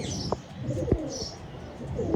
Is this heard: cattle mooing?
no